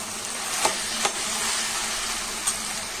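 Mashed potato frying with already fried ingredients in a pan for an aloo paneer gujiya filling, a steady close sizzle with a few sharp stirring scrapes.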